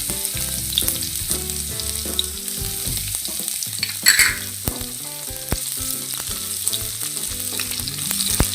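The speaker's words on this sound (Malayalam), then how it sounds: "ഇനി ഇതിലേക്ക് പച്ചമുളക് ഇട്ട് കൊടുക്കാം, ഇഞ്ചി ചേർത്ത് കൊടുക്കാം, വെളുത്തുള്ളി ചേർത്ത് കൊടുക്കാം" Whole spices, green chili, ginger and garlic sauté in hot oil with a loud, continuous sizzle and occasional stirring knocks, over background music.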